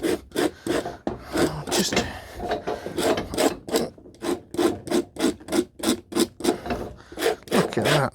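A Dr Martens Felicity boot sole is roughed up by hand for resole glue, with rapid rhythmic rasping strokes close up, a brief voice near the start.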